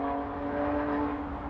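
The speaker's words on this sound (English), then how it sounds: "Sorry about the traffic." Road traffic near a fishery rushes past as a steady broadband whoosh, loud and continuous, with no talking.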